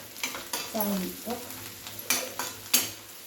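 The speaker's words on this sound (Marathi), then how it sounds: "हळद पावडर टाकली आणि मग चांगला कांदा आपला गुलाबी रंगावर भाजून घेतला" Onion fries with turmeric powder in a pan, a low crackling sizzle under repeated scrapes and clacks of a spatula stirring, close by and irregular in rhythm.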